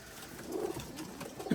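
Flying pigeons of the bazi breed in a loft, soft low cooing in a couple of short, quiet calls close by.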